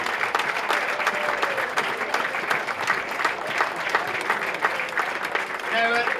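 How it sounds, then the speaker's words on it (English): Audience applause for Hall of Fame inductees at a rugby sevens ceremony in Melrose, a steady sustained round of clapping from a crowd that continues throughout without a break. "So please, one last round of applause for Eric Paxton, Lisa Thompson and Collins I"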